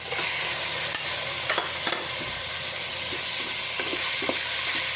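Chicken feet and chicken wings fry in a pan with a loud, steady sizzle and a few scrapes of stirring, no voices present.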